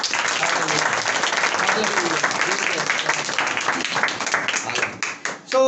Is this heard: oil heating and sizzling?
no